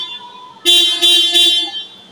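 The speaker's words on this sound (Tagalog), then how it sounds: "testingin muna natin yung yung stock nito na busina" The stock horn of a Mitsubishi Mirage G4 honks close and loud in three short blasts, each a bright two-tone beep, with a faint tone preceding them.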